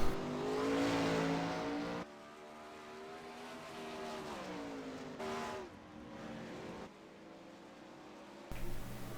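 410 winged sprint cars race at Lanier, their engines rising and falling in surging, revving passes that fade off and return with abrupt changes in level.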